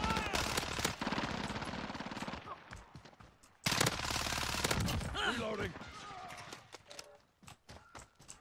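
A gold Vector submachine gun in a first-person shooter fires in long rapid bursts, dense mechanical rattling with brief pauses between volleys, while a voice talks underneath.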